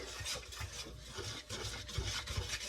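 A Dutch whisk working through dough for homemade ham and cheese hot pockets, giving steady close scraping and rubbing strokes that repeat in a loose rhythm, with no voices.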